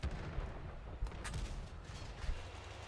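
Tank cannon fire in World of Tanks, a dense stretch of game battle with repeated heavy booming shots and rumbling low thuds, several sharp blasts standing out over constant gunfire noise.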